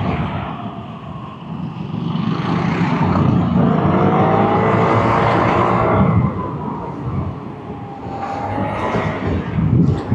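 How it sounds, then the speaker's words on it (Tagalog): Steady road traffic flows past on a Philippine road in late December, many cars and motorcycles passing close in a continuous loud rush with swelling engine passes. "Dami na ulit sasakyan."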